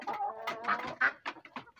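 Brahma hens cluck in a run of short, uneven calls close to the recorder, with a few louder squawk-like bursts among them.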